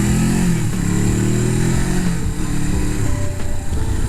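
A motorcycle engine runs steadily close by on roads and tram tracks in Nantes, a rough, chugging, tractor-like low rumble with clattery mechanical texture and no pauses.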